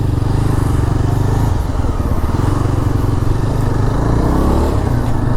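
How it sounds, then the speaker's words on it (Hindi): Yezdi Adventure motorcycle engine and exhaust running steadily, a loud, continuous low thrum with a throbbing rhythm and slight rises in revs throughout. "इसका जो एग्जॉस्ट है that is also very nice sounding"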